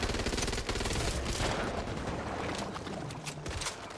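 Dense, loud bursts of gunfire in the zombie shooter game Back 4 Blood, rapid overlapping shots with echoing impacts filling the scene continuously.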